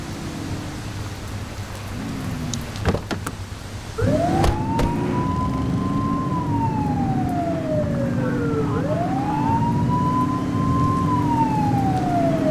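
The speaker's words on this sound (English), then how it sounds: "You're only meant to use the siren in emergencies." A police car siren in the video game The Precinct wails up and down in long sweeping cycles, starting after a brief chirp and running loud and steady over a rain-like background wash.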